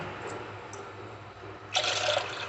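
Two glasses of water poured into a bowl of pani puri mix, a soft trickle that swells into a brighter, louder splash toward the end, no talk.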